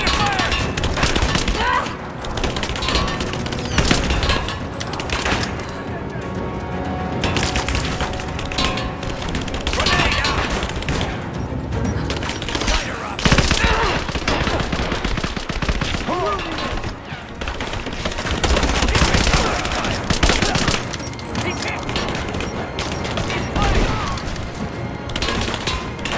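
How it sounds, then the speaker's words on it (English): Gunfire in Rise of the Tomb Raider during a forest firefight, dense volleys of shots and machine-gun bursts with splintering wood, loud and nearly continuous, mixed with shouted voices and battle noise. "I'm under fire!"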